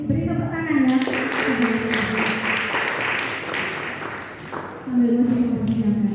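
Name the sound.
congregation clapping hands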